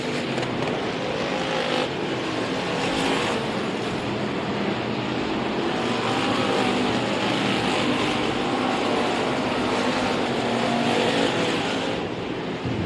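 Race cars roar around the Kennedale Speedway Park oval in heavy lap traffic during the Summit Showdown, a dense, continuous loud engine wash with cars sweeping past near and far, no talk over it.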